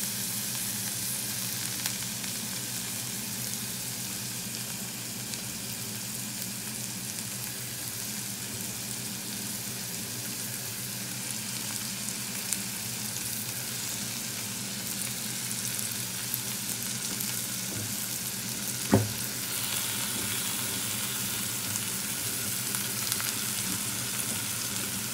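Fish sizzles steadily in hot oil in a pan, a continuous bright frying hiss with soft bubbling and a brief clink of a utensil near the end.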